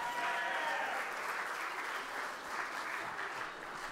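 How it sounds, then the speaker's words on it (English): A wedding reception crowd gives a round of applause for the maid of honor, a dense, steady wash of clapping that starts strong and eases slightly toward the end. "Round of applause, everybody."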